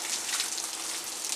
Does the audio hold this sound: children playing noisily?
no